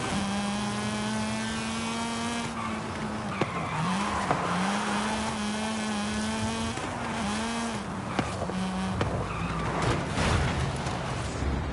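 Mazda RX-7 in the Forza video game: a loud, sustained engine drone rises and falls through gear changes, with repeated tire squeals and skids, no talking.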